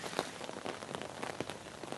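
Heavy rain falls outdoors in Italy, a dense and steady hiss of drops striking surfaces with occasional louder splats, continuous and fairly loud.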